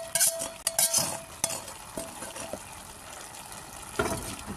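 Meat is stirred into pulao in a pot: repeated close scraping and clinking strokes against the metal over a low background sizzle, with a few sharper knocks near the start and end.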